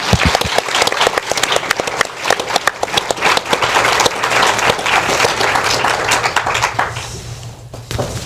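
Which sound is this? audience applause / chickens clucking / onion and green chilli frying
audience applause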